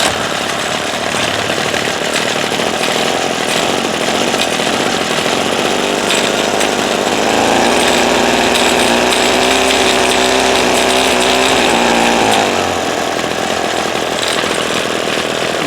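A Ryobi SS30 string trimmer's small two-stroke engine, suspected of carburetor trouble, runs loud and close with a rough, uneven buzz, surging into a higher, strained revving for several seconds before dropping back.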